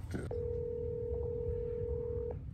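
A phone dials out to call someone back: a brief tone burst, then a single steady dialing tone held for about two seconds, faint and close over a low background rumble.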